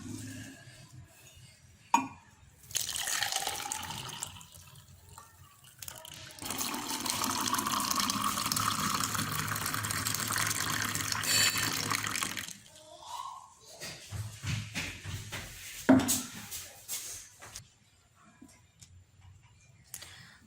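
Carrot juice pours into a mug in one continuous liquid stream lasting several seconds, with brief clinks and handling noises before and after.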